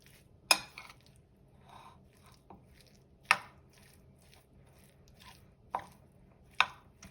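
Utensils toss tuna salad ingredients for a keto tuna salad in a bowl, giving a handful of sharp clinks and scrapes at uneven intervals with quieter rustling in between and no talking.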